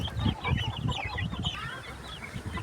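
Roosters and hens, including Giriraja chickens, cluck and chatter on a poultry farm in Kozhikode, with several birds calling at once close by in a continuous, busy flock sound.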